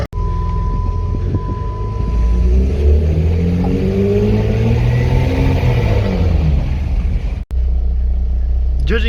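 A cold car engine with no catalytic converters revs loudly and repeatedly, its deep rumbling exhaust rising and falling in swells for several seconds before cutting off abruptly and settling back into a steady idle.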